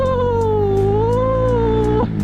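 Kawasaki Z200 motorcycle engine fitted with an Apido racing ignition coil, held at a steady, loud rev with a gently wavering pitch for about two seconds before dropping off abruptly at the end.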